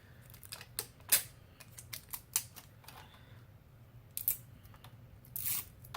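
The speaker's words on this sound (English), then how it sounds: "let me peel the protective plastic off of here" Protective plastic film is peeled off a lipstick tube in a series of irregular crinkling, tearing and clicking bursts, close to the listener and fairly quiet, with no talking.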